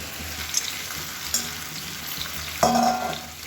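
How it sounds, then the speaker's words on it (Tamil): Half a kilo of chicken fries in a pan with softened onion and tomato for a Dindigul-style biryani gravy, a soft steady sizzle with stirring scrapes and a sharper surge of frying near the end. "1/2 கிலோ சிக்கன் வந்து சேர்த்துக்கலாம்."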